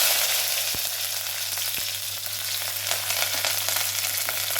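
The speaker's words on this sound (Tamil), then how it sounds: "வெங்காயம் வதங்கட்டும்" Chopped onion sautéing in a pan for a tamarind-free kuzhambu, a steady close sizzle and crackle of frying that runs continuously with a couple of soft taps, no voices.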